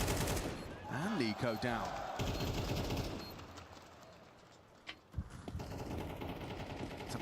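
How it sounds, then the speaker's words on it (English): Rapid automatic gunfire in a competitive Counter-Strike match on the Rush map, loud covering bursts in the opening seconds, then quieter scattered shots beneath an excited commentator's voice. "Dumal provides the covering fire"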